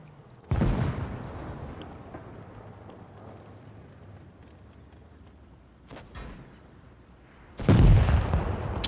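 Tanks fire HE shells in World of Tanks Blitz, two loud booming shots with long rumbling decays, one early and one near the end, plus a softer thud in between, with no talk.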